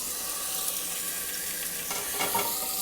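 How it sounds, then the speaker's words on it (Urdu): Raw chicken hits spices frying in a handi for a dhaba-style reshmi chicken, giving a steady, loud sizzle that swells briefly near the end, with no talking. "اب ہم اس میں چکن ڈالتے ہیں."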